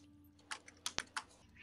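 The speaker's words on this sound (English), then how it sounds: "So then I just have to backspace repeatedly." Short, dry clicks of a computer keyboard's backspace key, a handful of separate presses tapped at an uneven pace, close and fairly quiet with no voices.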